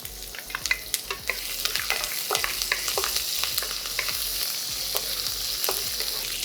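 Chopped green chilies and peanuts with cumin sizzle steadily in a hot pan while a spoon stirs, with scraping clicks over the constant frying hiss, close up and with no speech.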